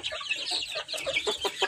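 Chickens cluck nearby in a quick, irregular series of soft clucks and chatter, fairly faint.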